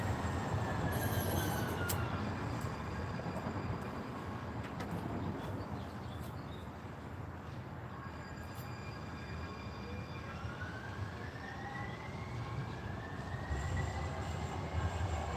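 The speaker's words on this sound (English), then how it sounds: "Almost got smooshed by a train." Train rolling past on railroad tracks near a rail yard, a steady loud rumble of wheels and cars throughout, with faint squealing wheel tones rising and falling above it.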